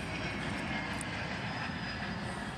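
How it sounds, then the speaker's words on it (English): Airplane flying overhead outdoors, a steady broad engine roar that holds at an even level throughout with no talk. "excuse the plane flying above"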